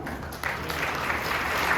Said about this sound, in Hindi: उन लोगों के लिए जोरदार तालियां